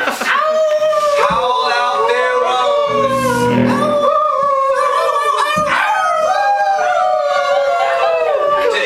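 Several huskies howl together in long, wavering, overlapping cries that rise and fall, loud and close, continuing without pause for the full stretch.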